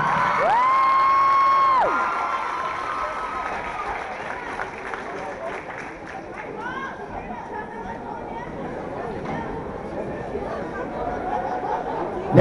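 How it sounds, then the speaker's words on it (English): Crowd at a Lady Dons senior night applauding and cheering in a gym after a senior player is honored, a steady mass of clapping and shouts that opens with a whistle-like tone and holds at moderate level, with a voice talking over it. "How about a round of applause,"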